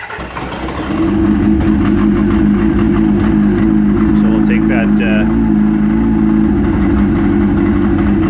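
A 2003 Yamaha RX1 Genesis snowmobile with a 1000cc four-cylinder engine cranks and catches on half choke, then settles into a loud, steady, close idle while someone talks over it.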